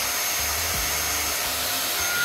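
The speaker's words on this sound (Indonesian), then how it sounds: "Tapi wajar sih emang kalau penyedot debu begini." A Samono SW-MPG400 mattress vacuum cleaner runs with a steady, loud broadband whine and low motor hum, a few dull knocks and pitch dips marking its vibration, with no voices.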